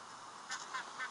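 Three short honking duck quacks from a video game duck in Survivalcraft, spaced evenly over a faint steady background hum, fairly close but quiet.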